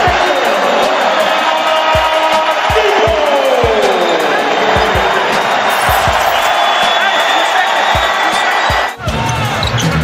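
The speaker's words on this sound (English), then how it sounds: "Listen to the crowd as Oladipo comes into the game for the first time this year." Basketball arena crowd roaring as Victor Oladipo checks into an NBA game for his return, a loud sustained wash of cheering with sneaker squeaks, ball bounces and a commentator talking over it.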